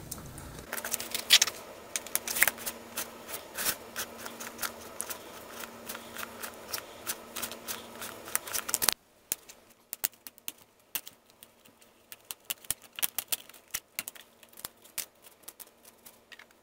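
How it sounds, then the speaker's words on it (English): The base being cut off a shop-vac cyclone cone, heard as a rapid series of close, sharp snipping and clicking cuts. A denser burst comes first, then sparser, quieter clicks follow after a pause. "Next, we're going to cut the base off."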